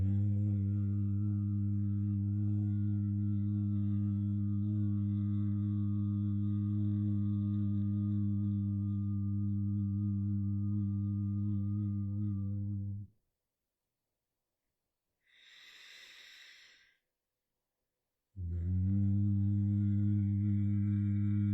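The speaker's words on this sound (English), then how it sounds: "But with the hum, we make an audible sound through the chest." A long, steady, low humming exhale of Bhramari pranayama breathing drones for about thirteen seconds, then a soft breath in, then the hum resumes, close and resonant, with no talk.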